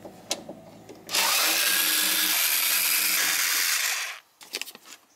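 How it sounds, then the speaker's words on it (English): A power screwdriver runs for about three seconds, loud and continuous, while removing the mounting screws of a factory door speaker in a Perodua Viva, with brief clicks and handling noise before and after. "There's three screws in here, so we're gonna remove it."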